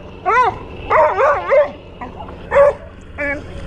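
A dog whines and cries in a series of high, wavering whimpers, five or six close, loud bursts with short pauses between them.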